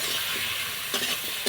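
Vegetable stalks and potato pieces fry in a pan with a steady close sizzle, a few scraping stirs cutting in near the end.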